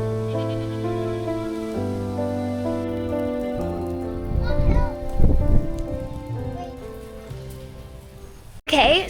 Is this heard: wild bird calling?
no